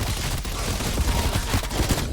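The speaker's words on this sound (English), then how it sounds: "now I can just hip fire into the crowd without having to even aim" Rapid automatic gunfire sprayed from the hip into a horde of zombies in Call of Duty Zombies, a dense continuous burst of shots with heavy low thumps, loud and close throughout.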